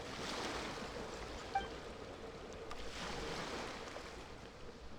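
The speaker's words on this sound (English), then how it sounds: "Go to where you can hear the sound of the waves." Ocean waves wash in Genshin Impact as a soft, steady surf with a gentle breezy hiss and a slow swell, faint and distant, with no talking.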